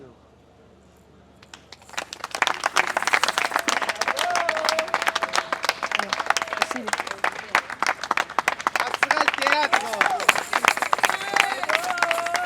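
A theatre audience in Kinshasa breaks into applause after a brief quiet opening, dense clapping swelling quickly and holding strong, with scattered cheers and a voice briefly heard.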